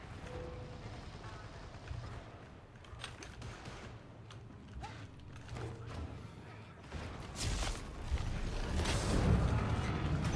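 An elevator mechanism in a video game, with creaking, clanking mechanical movement and gear-like rattles that grow into a louder rumble toward the end, over faint background game sounds.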